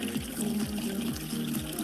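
Water flowing over the crest of a measuring weir in a watershed, a steady rushing flow with a soft rhythmic gurgle, continuous and fairly quiet.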